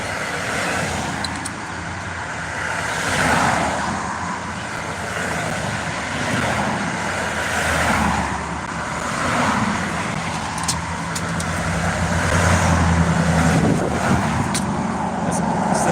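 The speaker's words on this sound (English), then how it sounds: "I hate those loud ass cars." Loud cars and trucks pass on a nearby road during a roadside trash cleanup in Texas, a steady roar of traffic that swells and fades in waves, with a heavier vehicle rumbling through near the end.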